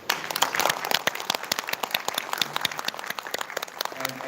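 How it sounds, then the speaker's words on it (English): An audience applauds after a panel discussion on digital asset regulation, a steady crowd of hand claps that continues at an even level throughout. "Please give them a big round of applause."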